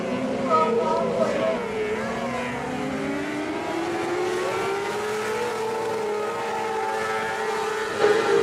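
Junior Formula 500 race cars roar past at a speedway, their engines rising and sliding in pitch as the pack sweeps by, loud and continuous throughout.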